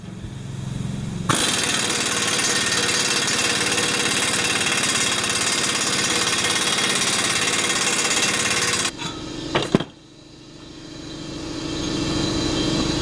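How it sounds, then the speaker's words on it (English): Impact wrench tightening an exhaust pipe clamp on a 454 engine's new 2.5-inch true dual exhaust, a loud continuous rattling hammer of about eight seconds, then a couple of short bursts before it stops. "you take your impact and you just tighten it and watch the pipe expand"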